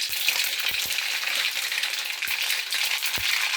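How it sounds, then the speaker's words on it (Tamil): Mustard seeds spit and sizzle in hot oil, a dense crackling hiss with a few sharp pops and light taps close at hand. "கொஞ்சம் கடுகு தாளிச்சிக்கலாம்"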